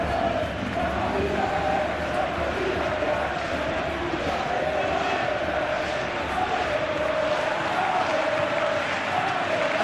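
A stadium crowd applauds and murmurs in a steady, dense wash of sound during a Real Madrid versus Atletico Madrid match in the football video game PES.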